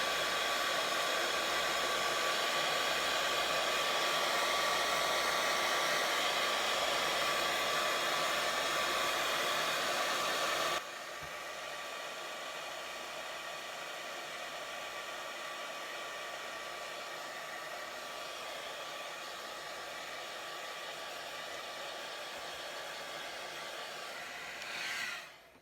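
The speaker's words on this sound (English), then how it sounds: "I'm going to hit it with a blow dryer and move this along." A blow dryer blows steadily over an alcohol ink painting, a loud continuous whoosh that drops to a lower setting partway through and then cuts off at the end.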